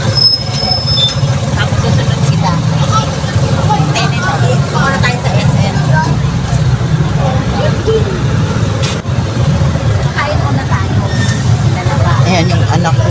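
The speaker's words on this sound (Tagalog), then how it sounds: "Sobrang matraffic." Heavy road traffic with buses and cars rolls past in a steady, loud, low rumble of engines and tyres that never lets up, with voices mixed in.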